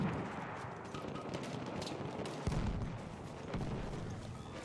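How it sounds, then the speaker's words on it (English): Rapid gunfire crackles in the multiplayer video game Battlefield 1, sustained rattling bursts with a sharper shot standing out midway, heard at moderate distance amid battlefield din. "Why are you shooting this way?"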